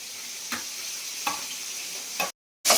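Hilsa fish heads fry in oil with a close, steady sizzle, punctuated by a few soft knocks from stirring. The sound cuts out briefly near the end, then returns.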